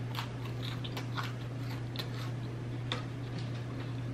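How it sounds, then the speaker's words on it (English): Pizza crust crunches during eating, a rhythm of small crisp bites and chewing close to the mic over a constant low electrical hum. "The crunch is perfect. Good flavor on this pizza crust."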